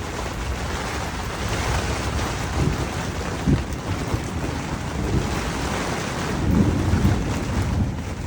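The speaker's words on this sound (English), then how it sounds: "you can hear the rain" Steady heavy rain roars close by on an inflatable tent, with low rumbles of thunder rolling underneath throughout.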